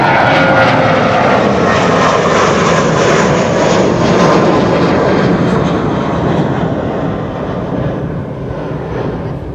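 A jet airliner takes off from Amsterdam Schiphol runway 24, its engines making a loud, broad roar that holds strong for several seconds and then slowly fades as it moves away.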